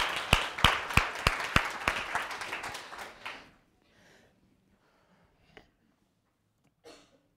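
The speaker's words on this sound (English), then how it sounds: "let's give a round of applause to all the teachers today" Audience at a talk on teaching skills applauds teachers with brief, sparse clapping of a few sharp claps that fade within about three seconds, followed by quiet room noise and a couple of faint coughs.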